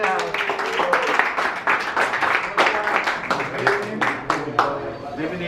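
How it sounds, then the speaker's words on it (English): Restaurant staff and diners clap in a dining room on the Disney Dream cruise ship, a lively burst of sharp claps mixed with chatter and voices throughout. "A round of applause"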